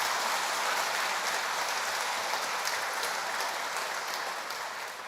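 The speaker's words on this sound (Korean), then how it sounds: "우리 남원 중앙교회 성도님들 축하 박수 한번 할까요?" A church congregation applauding at a pastor's installation thanksgiving service, a dense, steady roar of clapping from a large room that fades slightly toward the end.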